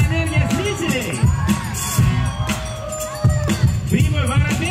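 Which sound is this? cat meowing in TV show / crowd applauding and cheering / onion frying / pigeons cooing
crowd applauding and cheering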